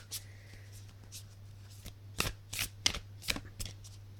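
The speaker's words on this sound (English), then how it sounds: "Just going to shuffle these cards, guys." Playing cards, tarot cards, being riffled and shuffled, a series of crisp flapping bursts that grow louder and more rapid toward the end, over a low steady hum.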